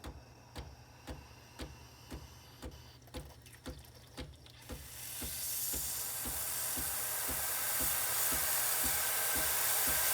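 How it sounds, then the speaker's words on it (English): Breville Barista Express espresso machine's steam wand starting with a series of regular pumping ticks, then bursting into a loud, steady broadband hiss of steam that continues to the end. "Once it's a steady steam like it is right now, you can go ahead and place it in the milk."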